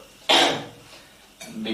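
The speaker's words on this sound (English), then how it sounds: "I am getting dry cough." A dry cough from a person, two short harsh bursts a second apart, the first loud and close and the second softer.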